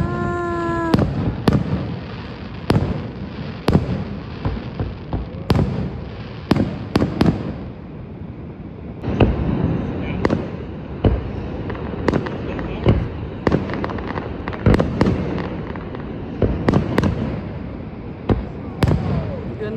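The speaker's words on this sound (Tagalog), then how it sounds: "Pagkatapos nito, ipapakita ko sa inyo yung fireworks." Fireworks burst over Niagara in a long irregular series of sharp cracks and booms, some in quick clusters, echoing at a moderate distance while people talk in the background.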